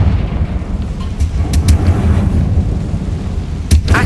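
Confringo explosive spell cast in the Hogwarts Legacy video game, a loud sustained rumbling blast with a few sharp bright cracks layered on top, dense and near throughout.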